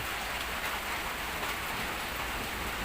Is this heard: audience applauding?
no